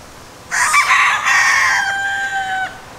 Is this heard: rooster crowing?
yes